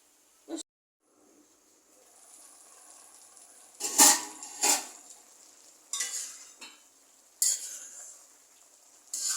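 Sautéing and stirring in a pan while cooking snake gourd with boiled papaya, with a quiet hiss and several sharp scraping, clinking strokes of a spatula against metal at irregular intervals, no talk.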